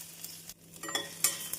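Mustard seeds, cumin and finely chopped ginger hit hot oil for a coconut-milk sothi, making a brief, faint sizzle with soft crackles and a light utensil clink.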